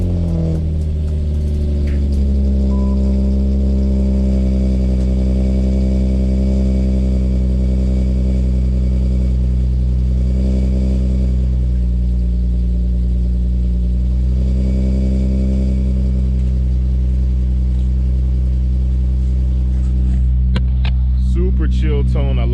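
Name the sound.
Nissan Altima SE-R exhaust on cold start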